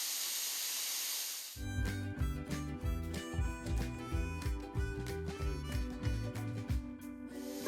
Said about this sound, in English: I'm just going to let them sit here probably about 2 to 3 minutes and just let them start cooking